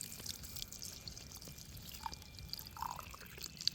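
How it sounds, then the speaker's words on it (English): Water rinsing goop out of the crevices of an animal bone being degreased for jewelry, a quiet trickle with small drips and splashes scattered across a few seconds, close and soft. "Gotta rinse out all the crevices."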